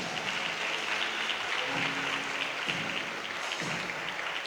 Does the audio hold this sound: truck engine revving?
no